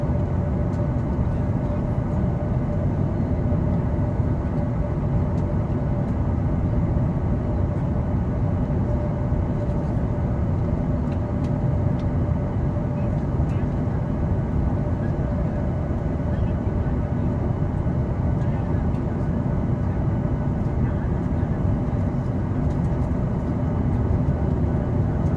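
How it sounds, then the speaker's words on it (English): Inside an airplane taking off from Atlanta, Georgia, a loud, constant engine roar and cabin rumble continue unbroken throughout. "Oh, here we are taking off our airplanes."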